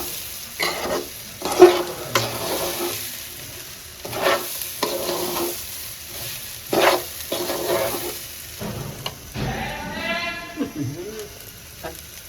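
Rice for pulao fries in a pot with soft sizzling and intermittent scraping stirs, fairly close, with a few scattered louder clanks and short bursts of a voice in the background.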